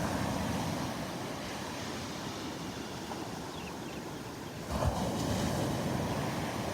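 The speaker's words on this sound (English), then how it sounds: "Those waves are really breaking here on this shelf" Ocean waves break on a shallow shelf at the ridge off Naples Pier beach, a steady broad wash of surf with wind buffeting the microphone and a slightly louder surge near the end.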